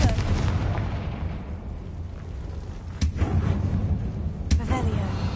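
Two sharp blasts from the Confringo fire spell burst in Hogwarts Legacy over a rumbling, low ambient roar, each a quick loud crack separated by about a second and a half.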